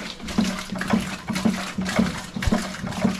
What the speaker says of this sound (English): Run water on top